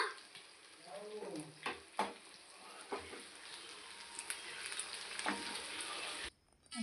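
Fish coated in masala fries with a steady sizzle and crackle, punctuated by a few sharper spatters and stirring scrapes, fairly close and continuous until it cuts off near the end.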